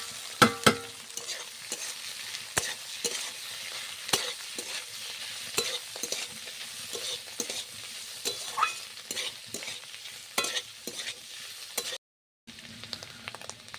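Fried mushrooms stirred into browned onions in a pan for mushroom masala, a steady soft sizzle under repeated scraping stirs of a spoon against the pan, close and fairly quiet, with a brief gap near the end.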